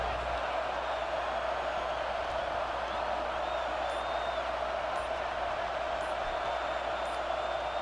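Stadium crowd roaring in a football video game, a loud, continuous wash of cheering with occasional whoops that holds steady for the whole stretch.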